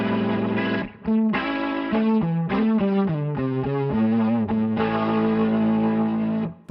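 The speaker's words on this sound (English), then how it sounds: "The speaker cab is being used to soften that power amp distortion that we are dialing in" Distorted guitar through a Line 6 Helix with power amp distortion softened by a speaker cab, feeding a triple rotary effect modeled on a Yamaha RA-200 rotary speaker: a loud, sustained sequence of chords and held notes with a swirling, wavering tone, no voices.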